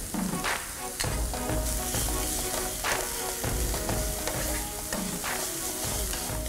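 Onion and garlic sautéing in a hot pan give a steady, loud, close sizzle, broken by scraping stirs.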